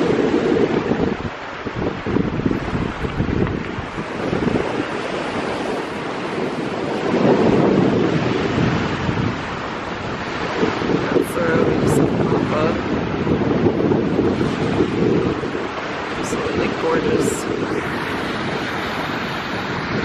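Waves wash onto a beach at Skagway, Alaska, with a continuous surf roar broken by gusts of wind buffeting the microphone, and people talk nearby.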